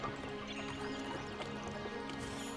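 Hollow clip-clop of horse hooves with an occasional whinny, over a steady busy background hum from the game Zeus: Master of Olympus.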